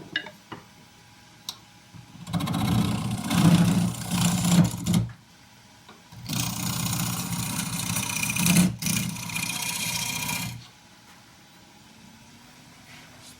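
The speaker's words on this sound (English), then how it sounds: "So we'll smooth that up with a scraper." Oak end grain on a wood lathe being smoothed with a scraper: two sustained rasping, scraping passes of several seconds each, separated by a gap, over the steady hum and faint ticking of the lathe motor.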